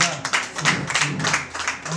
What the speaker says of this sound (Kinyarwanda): erega amashyi ntacyo yatwara muhuze ibiganza